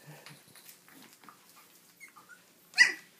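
Newborn Shetland sheepdog puppies whimper and squeak softly as they wake up, with faint scattered whines and one sharper, louder yelp near the end.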